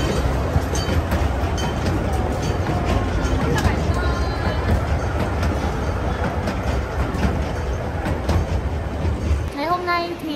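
Subway train running, a loud continuous rumble and rattle of railcars with a clickety-clack rhythm, a babble of voices under it and a rising electric whine near the end.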